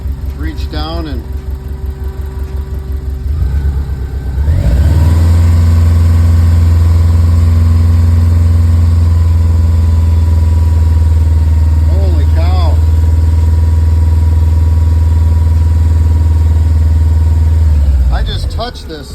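A Subaru engine fitted in a 1974 VW bus with a belly radiator idles loudly and steadily for most of the clip, its low drone starting after a few seconds of quieter sound, with a brief throttle blip near the middle.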